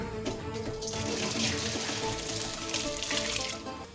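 Boiled chow mein noodles tip into a colander, releasing a steady, close rush of draining water that splashes continuously for about four seconds without any talk.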